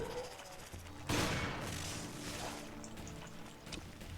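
Gunfire in the Resident Evil Revelations video game: a sharp loud burst around the one-second mark followed by a few softer, scattered shots over a low game soundtrack, with no talking.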